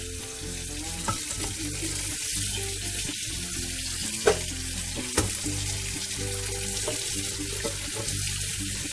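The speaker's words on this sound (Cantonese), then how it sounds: "開水喉沖佢一陣就可以解凍噶啦" Tap water runs steadily over large frozen prawns to thaw them in a sink, a constant close hiss and patter of water with a few sharp knocks and clinks against the sink, no speech.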